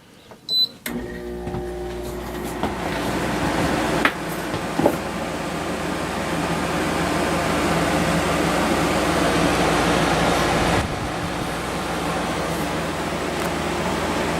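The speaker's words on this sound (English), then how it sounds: "This has a GRE compressor in it. Let's start it up. Go to Cool." GE 8100 BTU window air conditioner with a GRE compressor starting up on cool: button beeps, then a steady fan and compressor hum builds and holds, with a thump near the end.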